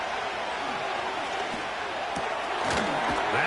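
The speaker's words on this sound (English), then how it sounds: "The crowd making their presence felt." Stadium crowd roar in a Madden football video game during a tense third down, a steady broadband wash of cheering with a few sharp thuds and swells near the end, no clear talk over it.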